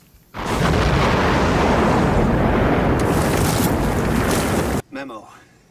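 A four-pound C4 charge detonates in the film Tremors 2: Aftershocks, a huge roaring blast that holds for about four seconds before cutting off abruptly, followed by a brief voice.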